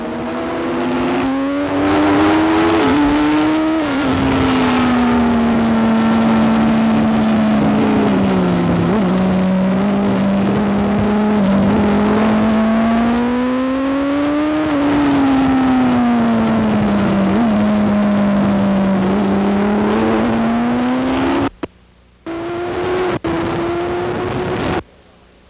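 Marlboro Team Roberts 500 race motorcycle recorded on board at Brainerd International Raceway: a loud, continuous two-stroke engine wail that rises and falls with throttle, then cuts out briefly near the end before roaring again.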